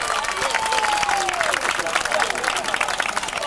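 Crowd at an outdoor political rally of UFR activists in Dubreka clapping for arriving delegates, dense continuous applause throughout with a loud voice carrying over it.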